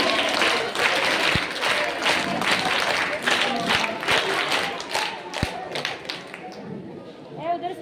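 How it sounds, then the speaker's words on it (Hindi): An audience at a school function performs a scout clap together, a rhythmic run of group claps with a few sharp thuds, under a fairly busy room. "एक साथ स्काउट ताली।"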